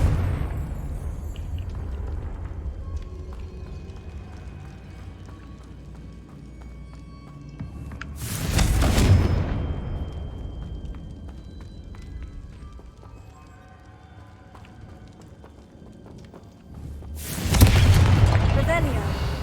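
Two heavy booming blasts from the Confringo spell in Hogwarts Legacy, one midway and one near the end, each a loud burst that fades slowly over low game ambience.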